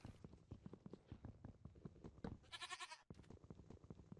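Goat from the Minecraft Mo' Creatures mod in a video game, heard as a steady, rapid clip-clop of small hooves with a short bleating cry partway through, close and alone without talk.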